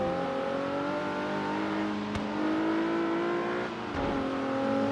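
A race car driven from the cockpit in Forza on a wet track with all-season tires, engine revving hard with shifting pitch as the wheels spin, steady and loud throughout.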